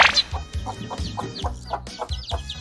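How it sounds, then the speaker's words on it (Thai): Hen and chicks clucking close by: soft repeated low clucks from the hen mixed with high, rapid peeping chirps from the chicks in an uneven, continuous chatter. "เอาเริ่มรับลูกไก่กันนะครับ"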